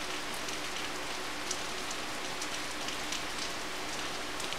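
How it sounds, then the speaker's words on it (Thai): Steady rain falls and patters on surfaces outdoors, a continuous dense hiss without pauses, fairly loud and close, with no voices over it. "ตอนนี้ได้ยินเสียงฝนชัดได้ยินเสียงฝนชัดไหมฮะ"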